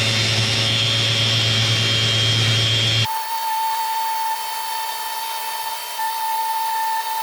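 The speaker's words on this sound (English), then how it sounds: "so I'm going to clean that up with a sander" A power sander smoothing parts of a wooden A-frame coffee table gives a steady whining hiss. Partway through, the tone shifts to a thinner, higher drone that holds evenly to the end, loud and close.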